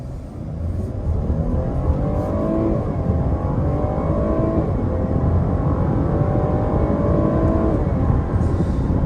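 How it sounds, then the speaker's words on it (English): A 2021 GMC Acadia SLT AWD SUV with a 3.6 engine accelerating hard through its 9-speed automatic, the engine note rising and dropping in several quick, closely spaced shifts, heard from inside the cabin with steady road rumble and no talking. "Shifts are quick, nice and close together with that 9-speed."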